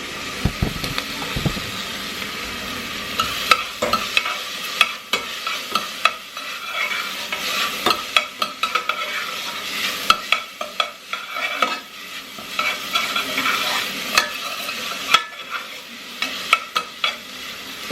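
Food sautés in a pan until translucent: a steady, close sizzle with frequent scraping and stirring strokes running throughout, and no talk over it.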